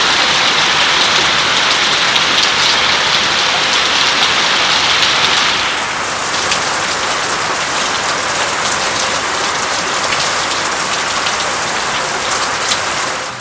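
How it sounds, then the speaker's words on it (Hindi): Heavy rain pours steadily, a dense loud hiss of drops on surfaces that carries on throughout, shifting slightly in tone partway through without easing. "बारिश शुरू हो चुकी है"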